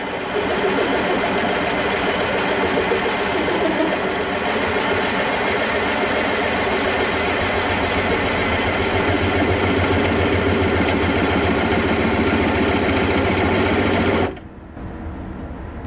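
A milling machine spins a Wohlhaupter UPA-2 boring head, giving a loud, steady mechanical whir with a strained rumbling hum that continues evenly before cutting off abruptly near the end.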